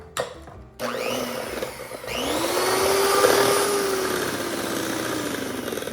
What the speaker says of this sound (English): we beat until very well frothed